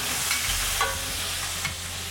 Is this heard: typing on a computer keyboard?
no